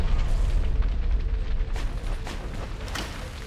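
Rocket launcher explosion in the Far Cry video game: a dense, sustained roaring blast with heavy low rumble filling the whole moment, loud and close, with no talk over it.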